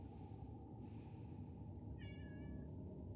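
Pet cat Lila gives a short, fairly faint meow near the end, over a steady low background hum.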